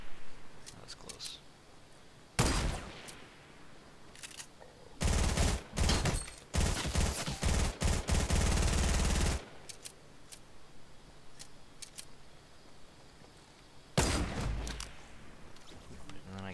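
Video game gunfire in a solo match comes in several bursts: a few single shots early, then dense rapid volleys, then a final shot, loud against a quiet background.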